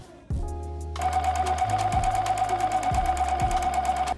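A sewing machine runs steadily and close up, stitching bias tape onto a bodice neckline, its fast rhythmic needle chatter starting after a brief mechanical clunk and a rising whir.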